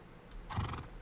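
A horse in the video game Rust lets out a single short whinny, moderately close and fairly quiet over faint ambient background, with no talking.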